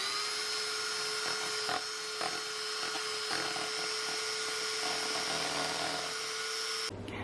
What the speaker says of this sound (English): we're just going to beat that up with our mixer